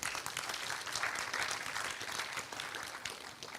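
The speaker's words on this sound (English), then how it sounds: "Please let's give them a big round of applause" An audience at an eco-warrior award ceremony applauds in a continuous, even burst of many hands clapping, steady throughout and tapering slightly at the close.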